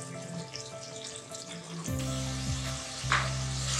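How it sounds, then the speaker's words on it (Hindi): Meat with red chilli powder and a little water sizzles and crackles in a hot pressure cooker, growing louder and denser partway through as it is stirred in, with a steady background hum. "लाल मिर्च पाउडर, साथ में थोड़ा पानी डालेंगे और इसको अच्छी तरह भून लेंगे।"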